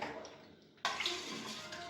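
Water is poured at home after a meal, a sudden gushing splash that starts partway through and continues steadily at close range.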